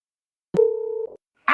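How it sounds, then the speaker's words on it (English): A house phone gives a short electronic tone, a clean steady beep of about half a second that cuts off abruptly, followed by a brief burst of noise. "I think that's their doggone house phone."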